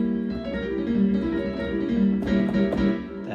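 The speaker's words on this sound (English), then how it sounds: "that's the sound of a diminished chord." A piano plays a tense diminished chord as a few sustained, overlapping notes, then a couple of soft restruck notes, fairly quiet, with no talking.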